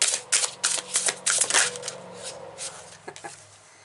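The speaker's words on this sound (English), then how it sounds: "I'm just going to keep shuffling." Tarot cards are shuffled by hand up close, a rapid run of crisp riffling bursts that taper off into a few softer slaps.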